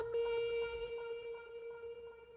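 An Ableton delay effect repeating a steady tonal note, the echoes pulsing in a regular rhythm and slowly thinning out as the tail fades quieter.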